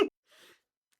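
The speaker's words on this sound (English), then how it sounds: "That was a sneeze." A single short, faint sneeze bursts out, followed by a soft breathy trailing exhale in an otherwise quiet room.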